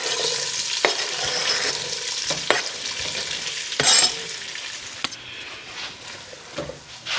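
Onions sizzle in a pot while being stirred, with scattered scrapes and knocks of the utensil against the pot over a steady, moderately loud frying hiss.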